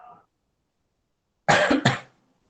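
A person gives a double cough, two harsh bursts in quick succession heard close up in a quiet room, after a short snatch of speech at the start.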